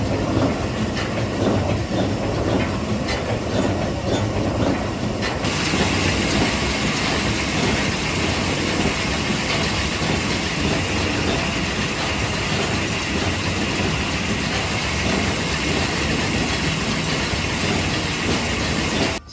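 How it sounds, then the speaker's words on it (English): Compressed air blasts dust out of a tractor's air filter as a loud, continuous broadband hiss that runs unbroken for nearly twenty seconds, close up, with no voices. "So if I blow this out, I'll have better aircon."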